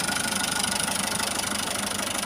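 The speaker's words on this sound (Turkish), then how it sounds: "fazla fazla gaz vermiyorum traktöre" A tractor engine idles steadily at low throttle while a crop sprayer tank fills, a continuous close, even mechanical drone with no talk over it.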